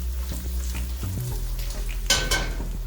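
Eggs fry in a new Lodge cast iron skillet with a steady close sizzle, and a brighter crackling burst flares up near the end.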